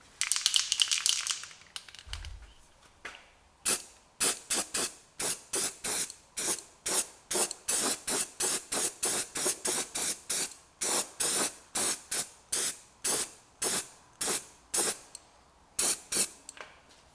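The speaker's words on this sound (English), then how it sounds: "I'll spray some primer on the back of this" A spray can of primer hisses onto car bodywork in a long series of short, even bursts, one after another at a steady pace, close up, after a brief initial spray.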